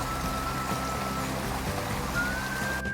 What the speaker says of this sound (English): The sound of the flowing river reminds you to let go.